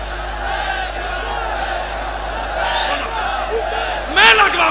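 A crowd at a Quran-o-Ahlebait religious conference raises voices in chanted slogans, a shouted group cry swelling loudly near the end over a background of murmuring voices.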